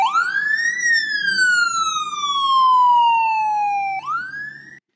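A loud electronic ambulance siren wails in a long descending sweep, then abruptly rises again, close and steady, with no talking.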